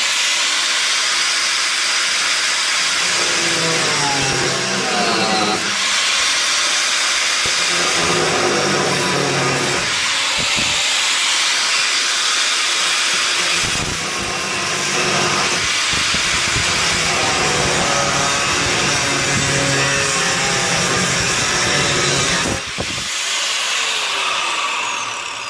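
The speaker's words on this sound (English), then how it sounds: "I'll probably just grind the rest of that off." An angle grinder works on the metal body of a Mark V Ford Cortina during restoration, a loud continuous harsh hiss and whine with bursts of rougher grinding and short pauses, close up.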